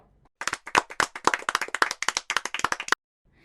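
A classroom of children claps together on cue, a quick burst of dense, fairly close hand claps lasting about two and a half seconds before stopping abruptly.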